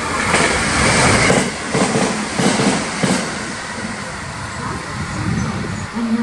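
A JR 287 series train runs through Shimamoto station without stopping, a loud rushing roar with rhythmic clattering wheel beats over rail joints, fading gradually under lighter station ambience.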